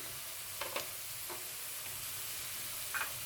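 Chopped garlic with onions sautéed gently in a pan for veg fried rice gives a soft, steady sizzle, with a few light utensil clicks as it is stirred.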